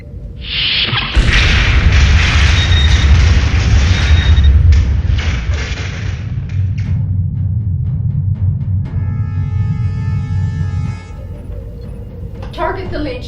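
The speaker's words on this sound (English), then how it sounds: "incoming plasma torpedo bearing 321 Mark II" Plasma torpedo striking a starship in a sci-fi space battle: a sudden heavy boom and rumbling blast that sustains for several seconds, followed by a fading low rumble and electronic tones.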